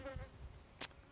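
Honeybees buzz around a beehive during sampling, a faint, steady drone hovering close by across the whole moment, broken near the end by one short, sharp burst of noise.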